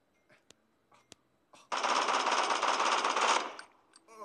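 An M4 rifle fires in the video game Bullet Force, a loud continuous burst of automatic fire lasting about two seconds, preceded by a few faint clicks.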